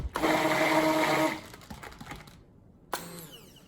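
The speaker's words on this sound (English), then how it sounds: "Let's give it a quick stick blend." A stick blender whirs loudly in cold process soap batter for over a second, then stops; a few clattering knocks follow before a brief second pulse of the motor.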